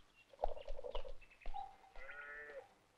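A goat bleats a few times, close and fairly quiet, with short wavering cries separated by brief pauses in a quiet setting.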